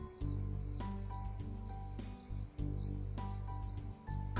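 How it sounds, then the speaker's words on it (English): Crickets chirp in a forest at dusk, a high, steady pulsing trill that repeats in short regular bursts, soft and continuous over a low background drone. "Crickets and frogs sang a chorus that mixed with the nearby waterfall"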